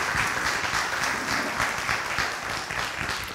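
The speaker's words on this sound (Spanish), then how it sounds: "Les pido un aplauso, por favor," A crowd gives sustained, dense applause for the official sponsor at a concert, steady and close throughout with no break.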